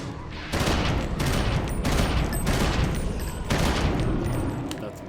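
An enemy in Eternal Darkness opens fire from a distance: several loud, rattling bursts of gunfire, each about a second long and separated by brief pauses, with no talk over them.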